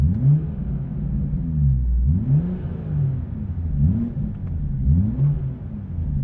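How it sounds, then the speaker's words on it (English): BMW M240i in Sport Plus with a Quicksilver valved exhaust, valves open and back box bypassed, blipped through several rising and falling revs, close and loud with a deep rumbling tone. "if I give this some revs in Sport Plus again, just as we did with the valves closed"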